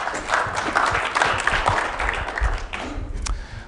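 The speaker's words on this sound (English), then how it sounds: "Quick little claps for the volunteers." An audience gives quick, brisk applause for volunteers, a dense wash of clapping from a crowd that fades slightly toward the end.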